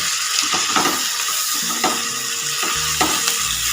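Tomatoes stirred in a hot pan for butter paneer masala, a steady close sizzle and frying hiss with several soft scrapes and clinks of a spoon against the pan, no talking.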